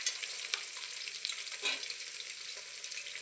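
Onion tossed into hot oil for a Gujarati khichdi with potato already in the pan, giving a steady bright sizzle with scraping stir strokes throughout, close and alone.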